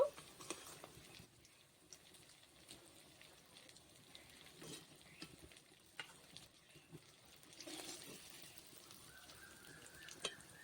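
Katla fish fingers fry steadily in hot oil with a soft, continuous sizzle and patter, with occasional louder crackles and spits breaking through. The sound stays fairly quiet and close throughout, with no talking.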